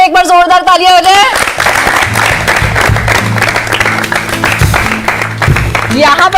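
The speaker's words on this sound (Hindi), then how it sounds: "तो सूर्य कुमार यादव के लिए एक बार जोरदार तालियां हो जाए।" Crowd applause and cheering for cricketer Suryakumar Yadav at a Cricket World Cup 2023 fan event, loud and dense, with a voice and some music-like tones at the start before the clapping swells and carries through.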